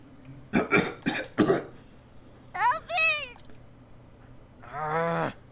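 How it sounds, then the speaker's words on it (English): A female character coughs hard in the Octopath Traveler video game, two quick bursts of harsh coughing followed by strained, gasping wheezes struggling for breath. "She's coughing so hard she can barely breathe."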